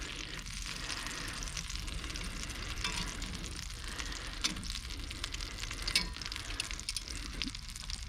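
An aged filet mignon steak sears in a pan with butter, giving a steady, even sizzle that runs throughout with no talking.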